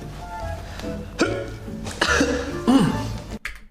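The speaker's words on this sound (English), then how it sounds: "Kind of a funny bit with the cough." A person coughs several times in short bursts with throat-clearing sounds, loud and close, in a light-hearted chess boxing setting.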